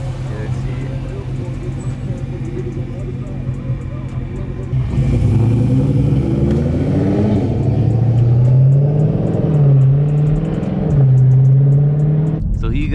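A Dodge Charger Daytona at a street race meet revs up, its engine rising and falling in several throaty pulls over a low idle rumble, loud and close, with people talking nearby.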